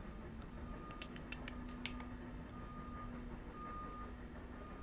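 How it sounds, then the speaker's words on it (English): Steady reversing beeps from construction vehicles working nearby, repeating in a regular rhythm at moderate distance over a constant low rumble of machinery and background noise. "Sorry about the construction work."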